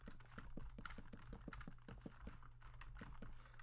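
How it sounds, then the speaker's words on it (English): Computer keyboard and mouse clicks tap along in a quick, uneven run of light keystrokes during Minecraft play, quiet and close over a low, steady hum. "I find the keyboard and mouse sounds very satisfying"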